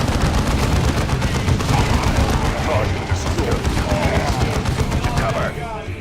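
Machine-gun fire in the strategy game Dawn of War 2, in a fight against orcs: a loud, sustained, rapid rattle of bursts with booming impacts and some talking beneath the din.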